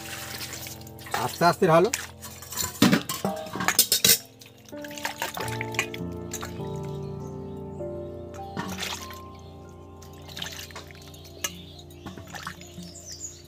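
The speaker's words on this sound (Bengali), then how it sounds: "নুন জলে ধোয়ার পরে আরো আর একবার আমি পরিষ্কার জলে ধুয়ে নেব" Raw mangoes are washed in clean water after a salt-water rinse. Splashing and sloshing come up close in the first few seconds, then quieter handling and faint drips follow, while someone talks over it.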